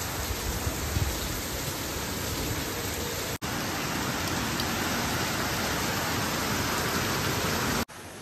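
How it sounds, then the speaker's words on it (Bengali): Heavy monsoon-season rain pours steadily on an early morning, a dense, constant wash of close downpour with only two brief dips, no voices. "ভীষণভাবে বৃষ্টি পড়ছে এই টাইমটায়।"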